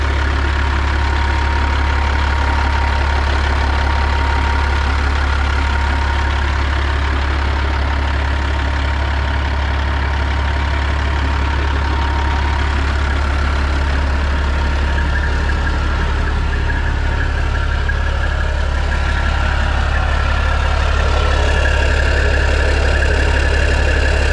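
A flatbed semi truck idles on an icy, freezing day, its engine rumbling loud, deep and steady at close range with a faint ticking knock, and no talking.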